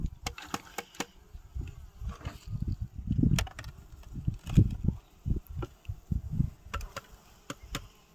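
Bees at an abandoned apiary in the evening, with a low droning hum rising and falling near the recorder, broken by sharp ticks and bumps as insects fly close past.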